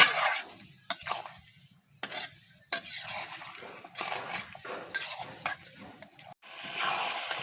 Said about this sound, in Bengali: এই যে দেখেন বাগার দিয়ে আমি একদম এরকম ভাজা ভাজা করে নিচ্ছি